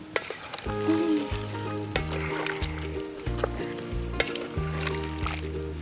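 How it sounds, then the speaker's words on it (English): Buffalo stew in a pot over a bush campfire gets stirred, with scraping and clinking strokes over a bubbling sizzle, close by, while a low tonal hum runs throughout. "give that a good stir"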